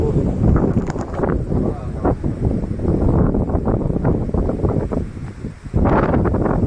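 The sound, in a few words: strong wind blowing into microphone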